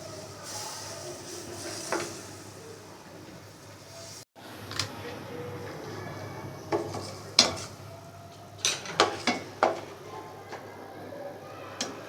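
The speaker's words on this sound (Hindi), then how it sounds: "इसको हमें जल्दी से चलाना होता है" Besan halwa is stirred quickly in a pan with a metal spoon, a soft scraping bed broken by a series of sharp clinks and taps that cluster toward the end, with no voice.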